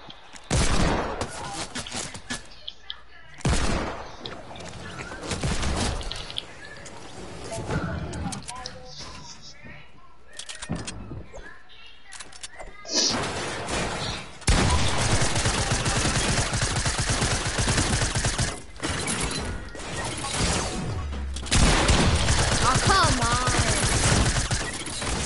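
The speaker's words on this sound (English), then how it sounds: "Y'all guys spam SMGs on me." Video game submachine gun fire comes in rapid bursts and heavy fusillades, loud and close. It keeps breaking in and out across the stretch and mixes with game noise, while a player talks over it.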